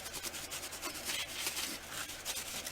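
Light buffing of silver metallic finish on an altered steampunk book, a steady soft rubbing close by with quick repeated strokes and no talking.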